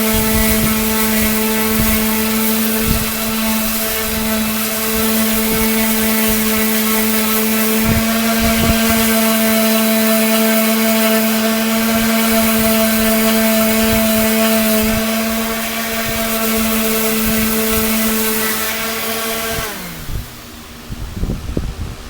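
A power sander works steadily on a rusty 1926 DL&W rail, giving a constant, loud whining drone with a few brief bumps, then spinning down near the end.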